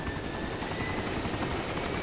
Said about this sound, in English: as soon as we start getting in the air, the chopper starts spinning around to the left